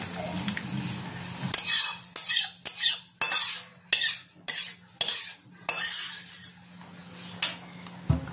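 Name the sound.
pouring prawn malai curry into a dish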